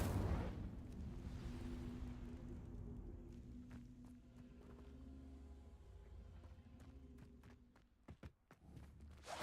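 Incendio fire spell cast in the video game Hogwarts Legacy: a sharp burst at the start swells into a sustained roaring whoosh of flame with a low hum, fading over several seconds, followed by scattered clicks and thuds.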